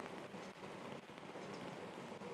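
Steady pouring rain hisses across an outdoor soccer pitch during a youth cup match between school and club teams, a dense, continuous wash of drops with no voices.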